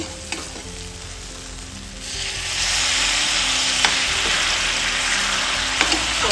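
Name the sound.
water added to frying spice masala in a pan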